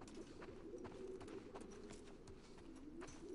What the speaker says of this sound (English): Sounds like a bunch of like birds.